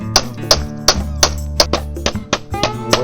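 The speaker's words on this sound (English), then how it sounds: "Of course, I had to use the hammer again." A hammer strikes repeatedly at the rear shock of a YT Capra mountain bike, about a dozen sharp, loud metallic whacks at an uneven rhythm, each with a short ringing clink, close up and with no talking.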